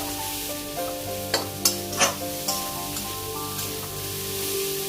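Ground cumin and coriander being stirred in a frying pan, a low sizzle under a handful of distinct spatula clinks and scrapes, fairly quiet and close.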